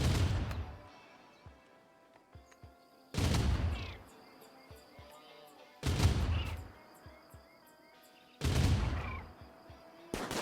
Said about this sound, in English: Just stood there while the shoulder cannon does its work.